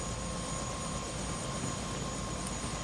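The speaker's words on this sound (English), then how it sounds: "Yeah, that's one fancy helicopter." A helicopter in the video game Prey, idling on a rooftop: a steady, low droning engine hum with a faint whine, continuous and unchanging.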